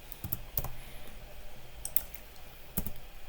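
Someone types numbers into an Excel spreadsheet on a computer keyboard: a few sharp, separate key clicks at close range over quiet room noise, with no talking.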